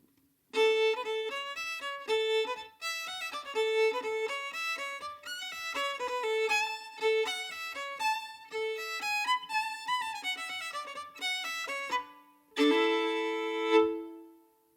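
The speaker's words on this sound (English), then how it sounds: "So I would like to play you a very short melody called Crossroads." A solo fiddle plays the short folk melody Crossroads, a lively bowed tune of quick, clear notes with brief pauses between phrases, ending on a held chord, close and without talk.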